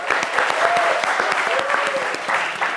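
Applause from the studio audience of a French-language TV show, steady and fairly loud for a few seconds, with music or voices faintly mixed beneath the clapping.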